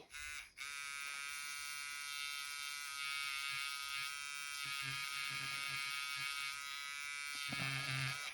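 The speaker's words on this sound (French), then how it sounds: "je voulais vous montrer du coup la gomme en action" Electric eraser running during colouring, a steady high-pitched whine like a dentist's drill, close and continuous, with its tone shifting slightly as it presses against paper.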